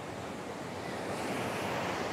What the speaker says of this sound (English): the water doesn't crash till the front of this rock.